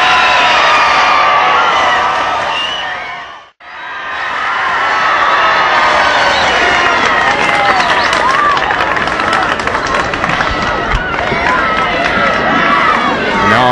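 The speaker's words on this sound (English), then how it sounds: "You hear the crowd applaud him." A large outdoor crowd in Fort Worth applauds and cheers President Kennedy as he crosses 8th Street, a loud, dense roar of clapping and shouting that briefly drops out and then swells back continuously.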